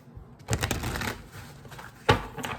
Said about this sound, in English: let me shuffle 5 times